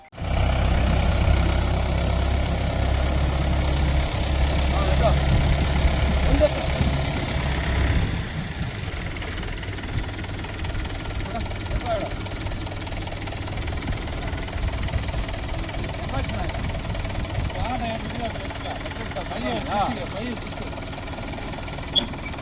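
A tractor's steady low engine rumble idles for about eight seconds, then drops to a quieter, rougher hum with voices talking over it.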